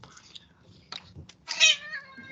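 A cat lets out a clear meow near the end, rising then falling, after soft breathy noises and faint whispery sounds in a quiet room.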